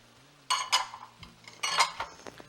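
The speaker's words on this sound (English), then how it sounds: "Mix everything together. Until it's nicely blended." Spoon clinking and scraping in a bowl while mixing chopped tomatoes and parsley into meat filling for laham ajeen, a few short bright clatters separated by pauses, close and fairly quiet.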